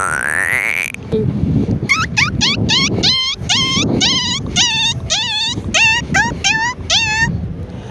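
A man mimics a frog's call with a rapid run of bouncy, springy croaks, about a dozen quick upward-bending notes in steady rhythm, loud and close, following a short rising whistle at the start.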